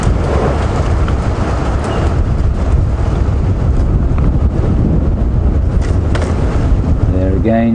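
Steady wind rushes across an open game reserve during an evening safari drive, a constant broadband roar buffeting the microphone throughout, with a short burst of voice-like tones near the end.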